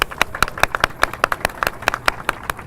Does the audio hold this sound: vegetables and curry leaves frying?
no